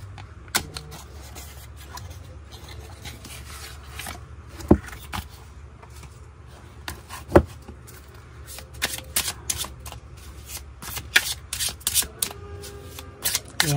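Telepathy oracle cards being shuffled by hand in close-up, making soft rapid riffling and flicking with occasional sharper snaps over a low steady background hum.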